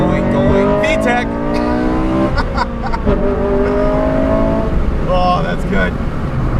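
A Honda Civic Si engine revs hard and climbs steadily in pitch as VTEC engages, the loud droning note heard from inside the car while someone talks over it.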